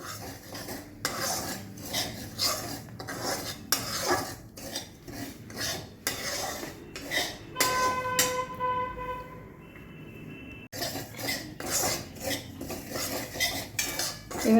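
Semolina being stirred in hot ghee in a kadai: close, rhythmic spoon scrapes and clinks against the metal pan, broken midway by a sustained horn-like tone from outside before the stirring resumes.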